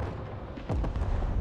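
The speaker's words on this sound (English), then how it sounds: "Yeah, I'm bombing that right there" A bombing explosion in the video game Broken Arrow: a single deep, heavy boom with a rumbling tail, fairly close and loud, with no voices.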